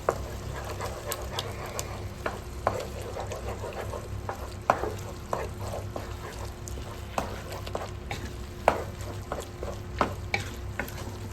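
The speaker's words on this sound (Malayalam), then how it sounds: "അത് 2 മുട്ട ഇട്ട് കൊടുക്കുന്നു" Two eggs sizzle in a hot pan for creamy pasta, a steady frying hiss broken by repeated sharp scrapes and taps of a utensil stirring them, close and fairly loud with no talking.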